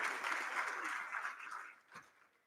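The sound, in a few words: audience applause at entrepreneurs forum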